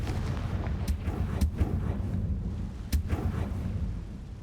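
Confringo, an explosive fire spell in Hogwarts Legacy, goes off as a few sharp blasts, loudest around the middle and end, over a steady rumbling game soundscape, with no talking.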